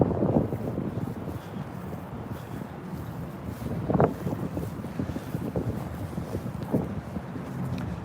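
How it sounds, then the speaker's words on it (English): Cold winter wind gusts buffet a microphone on a Washington DC street on a January evening, producing rough low rumbling with sharper bursts of buffeting at intervals. "I'm gonna continue walking here because it's so windy and my face is frozen"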